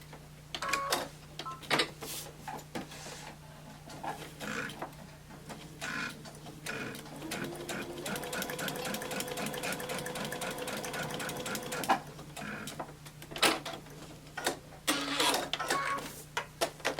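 A sewing machine stitches a seam on a triangle cabin quilt block, running in a close, rapid mechanical whir for several seconds between quieter handling clicks and taps.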